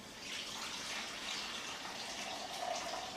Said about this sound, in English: You can get in there with your hands, you can give it a good rinse